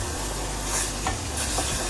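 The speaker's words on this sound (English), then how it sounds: "And we're just going to scrape." Metal spoon scraping the bottom of a hot pan while beef stew cooks, with water just added to steam and deglaze, giving a steady close scrape over continuous sizzling, with no talking.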